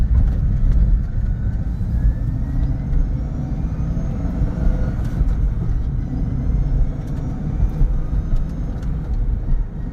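A 2013 Chevrolet Corvette 427 drives steadily with a constant low engine and road rumble throughout, with faint rising tones as it moves through gears.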